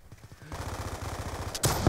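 Rapid automatic gunfire in Call of Duty: Black Ops 2 rattles loudly and densely through a multiplayer match, building into a heavy close burst near the end.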